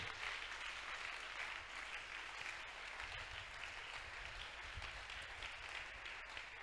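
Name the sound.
church congregation applauding for the Lord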